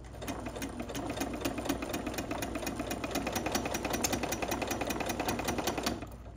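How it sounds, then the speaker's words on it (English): A domestic sewing machine stitches a dart with a backstitch, running at a steady, rapid clatter for about six seconds before stopping abruptly, close and fairly loud. "So here you just start sewing like normal and then backstitch like normal."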